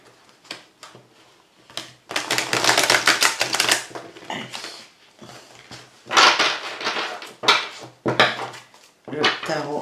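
Tarot cards being shuffled and drawn: repeated papery riffles and slaps in bursts, close and moderately loud, with brief quiet gaps between handfuls.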